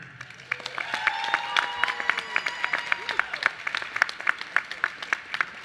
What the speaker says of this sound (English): let's also give a warm round of applause to wonderful faculty and staff led by Dean Jen Brown.